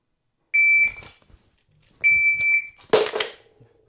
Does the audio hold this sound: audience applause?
no